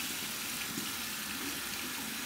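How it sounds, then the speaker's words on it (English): Very hot water runs steadily from a bathroom tap onto a puck of hard shaving soap at the sink, a close, even splashing rush with no speech. "I'm going to put some hot water on that right now."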